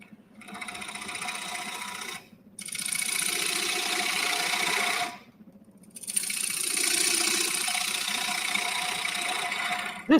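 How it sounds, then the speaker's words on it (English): A wood lathe spinning at about 900 RPM gives off a steady, fairly loud whir that cuts out twice for a moment before resuming, with no voices. "I'm going to try to crank up the lathe just a little bit"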